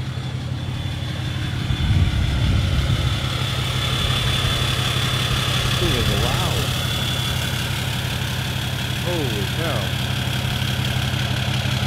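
A 24-valve Cummins diesel with a 5-inch straight-pipe exhaust idles loudly with a deep, steady rumble and hum, close to the microphone, while a few brief voices come and go over it.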